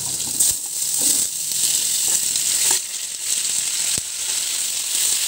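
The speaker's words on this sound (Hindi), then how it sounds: "जीरा क्रैकर होने लगा है। अब हम इसमें आलू हमने पहले से धुल के रखे थे, ये हम इसमें ऐड कर देंगे।" Washed potatoes drop into hot oil where cumin seeds are already crackling, giving a continuous loud sizzle with occasional pops and scraping stirs throughout.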